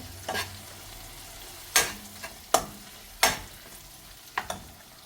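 Tomatoes cooking down in a pan for a brinjal mushroom gravy, a soft continuous sizzle broken by five or six sharp spoon scrapes and knocks at uneven intervals, close and without talk.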